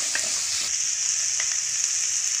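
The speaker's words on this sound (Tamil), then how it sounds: "வெங்காயத்தை போட்டு நல்லா வதக்கிக்கலாம்." Onions sautéing in a pan for South Indian chicken curry, a steady close sizzle of frying with a few light stirring scrapes, no voices.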